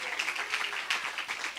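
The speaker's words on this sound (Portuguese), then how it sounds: "Pode aplaudir o Senhor" A church congregation applauds during a family worship service: a steady, close wash of many hands clapping, with brief louder swells, and no voice above it.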